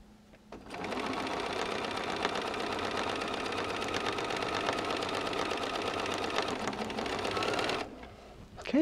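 A sewing machine runs steadily for about seven seconds, stitching a quarter-inch seam in quilting fabric, a loud continuous mechanical whir that starts and stops abruptly with no talking.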